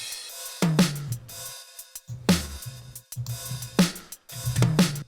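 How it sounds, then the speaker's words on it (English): Drum tracks from a song mix, with punchy kick and snare hits in a repeating groove, cymbal splashes over each phrase and short gaps between bars, played clearly without talk. "So next we have the rest of the drums, which sound like this."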